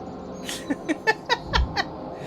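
A cat meows several times in a short, close series of rising, slightly strained calls, with a low background hum.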